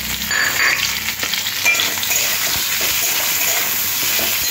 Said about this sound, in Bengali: ডাঁটাটাও আলুর সাথে ভাজতে হবে। ডাঁটার সাথে সাথে কেটে রাখা পেঁয়াজটাও দিয়ে দিলাম।